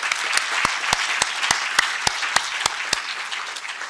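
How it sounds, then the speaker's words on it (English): An audience at a research forum on gender-based violence in higher education applauds its three speakers: steady, dense clapping from a room full of people, with a few sharp individual claps standing out at regular intervals, and no voices. "Can we give a round of applause to all three of our speakers?"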